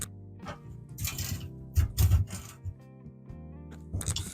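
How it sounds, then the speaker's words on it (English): A small hand saw cuts through wooden dowels in short rasping bursts with uneven gaps and a few knocks of wood, close up and with no talking. "So I'll just get the saw, nice little hand saw, and we'll chop all those off."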